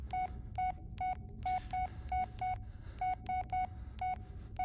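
A phone plays a rapid run of identical short electronic tones with brief gaps, about a dozen beeps, clear over a low background hum, in the Blair Witch video game, with no talk.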